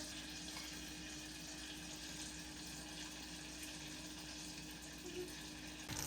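Water runs steadily from a tap for several seconds as it is poured over freeze-dried scrambled eggs, a continuous broadband rush with a brief change near the end.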